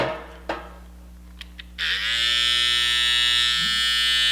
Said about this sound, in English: I wanna make sure that they actually turn on.